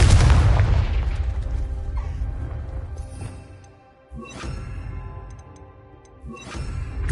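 Video game fire explosion spell from Hogwarts Legacy: a loud booming blast at the start, followed by two further thudding explosive bursts a few seconds apart over a rumbling background.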